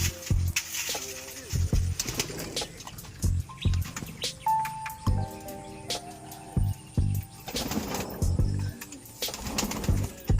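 Pigeons kept for sale coo in low, throaty bursts that repeat in an uneven rhythm, close by and moderately loud, with a few faint chirps behind them.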